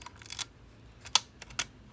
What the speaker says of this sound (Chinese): 这快门正常可动作